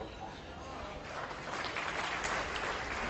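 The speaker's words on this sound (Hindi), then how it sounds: "ताली किसके लिए बजा रहे हो मेरे भाइयों?" An audience claps together at a speech, a broad rushing patter of many hands that swells a little louder toward the end, heard alone without voices.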